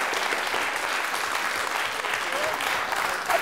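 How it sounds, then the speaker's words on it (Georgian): Applause for a contestant named Keti in a school quiz show at Batumi Public School No. 4, a steady, fairly loud round of clapping from the audience with voices faintly beneath it. "აპლოდისმენტები ქეთის"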